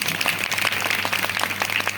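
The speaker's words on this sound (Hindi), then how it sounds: "एक बात तालियां तो बजाइए बाबा साहब के लिए बनती है" Brief audience clapping in tribute to Babasaheb Ambedkar at a spoken performance, a short patter of hands sounding moderately close against a low steady hum.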